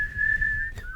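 A person whistles through pursed lips, holding one steady high note for most of a second before a brief break and a slide lower, close and clear.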